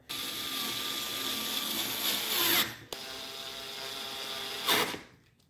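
A power tool drives screws into a C7 Corvette bumper in two sustained whirring runs, each rising in pitch before cutting off, with a short pause between.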